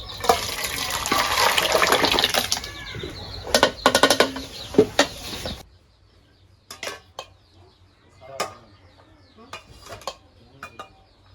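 Kochu ghati, a Bengali taro dish cooked with kalai lentils, is tipped out of a cooking pot. A thick, wet slosh comes first, then metal pot and spoon clatters and scrapes, followed by scattered clinks in quieter moments.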